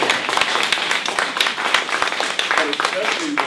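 Audience applause at a District 66 candidate forum on health care, a steady dense patter of many hands clapping close by for a few seconds.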